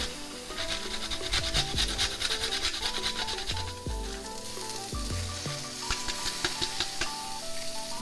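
Garlic pieces and grated ginger fry in a pan, giving a steady close sizzle with stirring and scraping noises over it and no talking.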